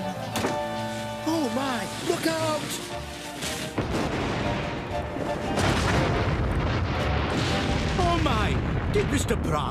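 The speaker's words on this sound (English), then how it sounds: "The explosion's part of the ride." A loud, cartoonish explosion from an animated pirate ship ride bursts out, followed by sustained rumbling blasts and crackling under excited voices and music.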